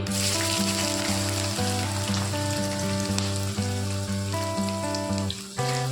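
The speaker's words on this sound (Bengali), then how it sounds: "পেঁয়াজগুলো আমি খুবই ভালো করে লাল লাল করে ভেজে নিব" Chopped onions frying in hot oil for a Bengali chicken kasha, with a continuous bubbling sizzle up close and a short clatter just before the end, no voices.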